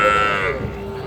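A young bull calf at a cattle market gives one short, close, loud moo that fades slightly toward the end.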